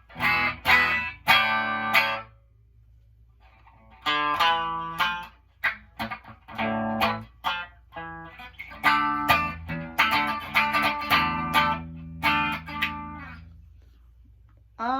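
An electric guitar with bright single coil pickups plays a clean tone with treble and presence turned all the way up, picking short chords and notes in bursts with brief pauses between phrases.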